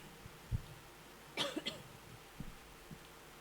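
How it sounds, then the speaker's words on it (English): A few short coughs, one sharp burst then a rougher cluster, with faint throat sounds after, close by in a quiet room. "I hope I've not given you my cough."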